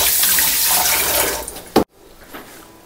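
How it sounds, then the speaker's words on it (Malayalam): Water pours into a pot of beef being cooked Kerala style, a loud steady splashing stream that stops abruptly, followed by quieter faint sounds. "കുറച്ച് വെള്ളം കൂടി ഞാൻ ഇതിലേക്ക് ഒഴിക്കുന്നുണ്ട്."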